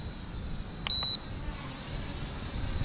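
A Tomzon D25 toy drone flies in a decent wind, its motors holding a steady high-pitched whine over broadband wind rush, with one short electronic beep partway through.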